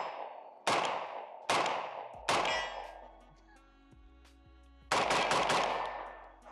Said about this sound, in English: Now, I do have it set up without a suppressor right now. We'll run a couple shots just to see how it feels.